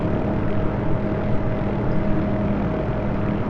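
Hughes OH-6A helicopter hovering in the DCS flight simulator, with a steady, unbroken drone of engine and rotor that holds a constant hum throughout and no voices.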